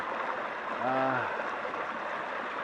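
Rock Creek flows near its source, within about 15 to 20 miles of Washington, D.C. It makes an even, continuous rushing murmur with one brief tonal sound rising over the water near the middle.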